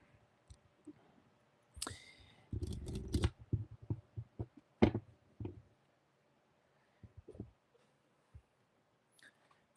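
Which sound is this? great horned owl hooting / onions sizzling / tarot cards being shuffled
tarot cards being shuffled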